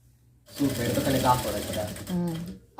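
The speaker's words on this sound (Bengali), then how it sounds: "এখন আমি সেলাই করে নেব" A sewing machine stitches frilled fabric for a bedsheet set, running steadily for about two seconds at close range, with a person talking over much of the machine's hum.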